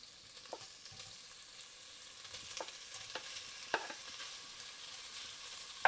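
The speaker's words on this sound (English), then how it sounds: "Let's get some of this sausage in. It's probably not hot enough just yet, but let's see. Oh, it's sizzling." Sausage sizzles steadily in hot oil in a gumbo pot, a faint continuous crackle with occasional sharper pops and light stirring clinks, no voices.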